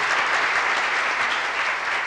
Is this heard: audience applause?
yes